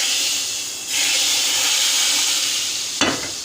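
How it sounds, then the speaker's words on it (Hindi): Hot cumin tempering is poured into cooked mixed lentils, setting off a loud, steady hiss and sizzle that surges after a second and ends with a brief clatter. "अब इसका बघार लगाते हैं हम।"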